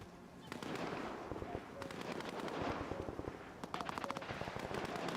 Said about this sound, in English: that gunfire is not my problem